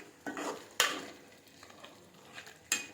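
Gongura chicken curry being stirred in a pan, with a few distinct scraping strokes of a spoon against the metal and a faint sizzle between them, close and without talk.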